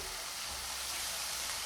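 Garlic and ginger paste frying in hot oil gives a dense, even sizzling hiss that carries on without a break.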